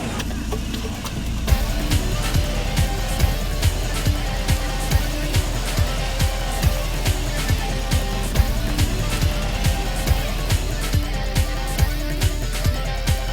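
A 1966 Ford Bronco rock crawler with a lifted body and modified suspension driving, a loud rumbling engine with a steady rhythmic pulsing throb and rattling clatter, continuous and close.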